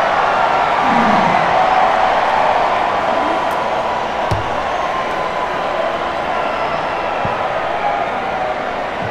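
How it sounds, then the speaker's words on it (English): Rugby stadium crowd at a Wales versus New Zealand autumn international, a loud, steady broadband roar of many voices rising with cheers and whoops throughout, with occasional sharp thuds standing out from the din. "Aaron Smith gets the crowd on their feet with that run"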